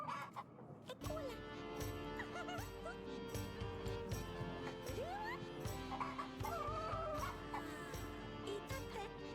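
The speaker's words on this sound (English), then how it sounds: "there goes our magic rooster." A magic rooster in the video game Yes, Your Grace clucks and squawks in short, quiet bursts over a droning musical score, the calls scattered across the clip.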